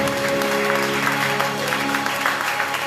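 A church congregation at a Sunday service applauding continuously, a dense, loud wash of clapping with voices and a sustained sung or spoken tone underneath throughout.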